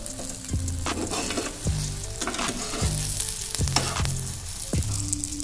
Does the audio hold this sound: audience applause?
no